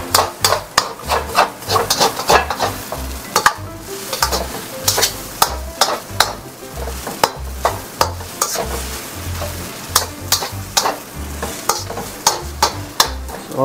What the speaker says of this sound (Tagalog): haluin nyo lang uli